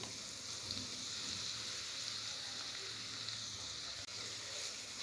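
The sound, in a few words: grated carrots and dry fruits sautéing in ghee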